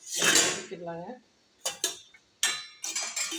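Dishes and spoons clatter and clink inside a dishwasher in a few quick bursts, close by, with short pauses between the rattles.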